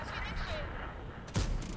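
A tank gun fires once in World of Tanks, a loud, sharp boom with a deep low thump partway through, set against steady game ambience.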